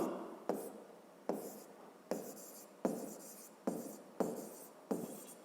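Handwriting notes with a pen on paper: repeated scratchy strokes in bursts about every 0.7 seconds, close and clear, with no talk.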